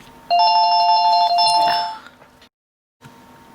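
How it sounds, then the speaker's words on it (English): A telephone rings with a bright electronic trill for a second and a half, fades, then falls silent before faint room noise returns. "So sorry about the telephone ringing then."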